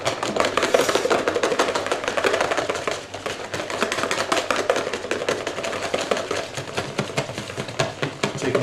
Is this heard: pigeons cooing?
no